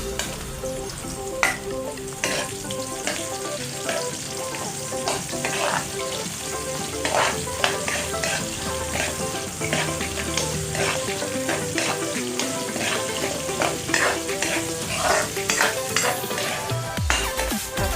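Onion frying in a pan for pancit bihon guisado, a continuous loud sizzle with frequent spatula stirring and scraping clicks throughout, close by and with no talking.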